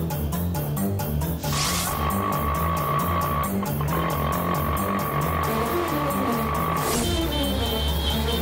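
A car engine runs steadily close by, its pitch rising as it pulls away, with a steady hum and a few shifts in the engine note throughout.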